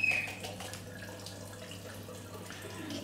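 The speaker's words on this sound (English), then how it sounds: "I've got some water here, you can hear it running in the background" Tap water running steadily in a sink while a neti pot is prepared with a salt sachet, a soft continuous splashing flow in the background with a brief high tone at the start.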